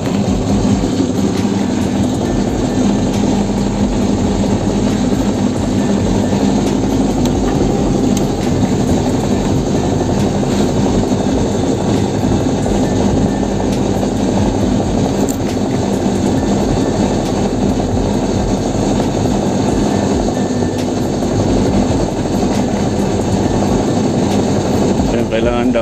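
The drain pump of a top loader washing machine with an E3 error runs with a loud, steady droning hum that never lets up, close by, while someone talks over it.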